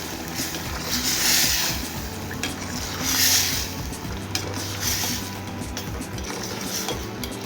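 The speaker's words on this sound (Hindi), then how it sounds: "अब हम इधर एग जो है वो ऐड कर देंगे और इसको अच्छे तरीके से हिला देंगे" Eggs being stirred into potatoes in a pot for aloo anday bhujia: a utensil scrapes and clatters rhythmically against the metal over a bright sizzle, with pulses of louder frying about every two seconds, close and without speech.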